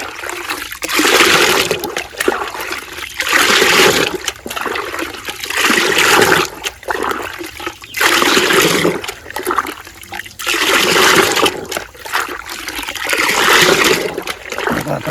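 Liquid sloshes in bursts as a container of water mixed with shampoo and urea is shaken, loud splashing surges repeating every couple of seconds with brief pauses, no voices.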